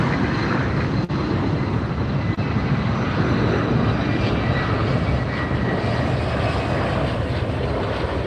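Heavy jet airliner taking off from a runway at LAX, a loud, continuous broadband engine roar that holds steady throughout with no voices.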